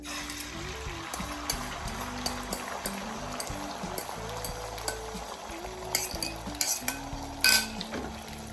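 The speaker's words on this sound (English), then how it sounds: "I'm just gonna add these eggs to this" Eggs going into an eggplant sauce in a hot pan, with a steady close sizzle and frying crackle under scraping stir and utensil clinks against the pan throughout.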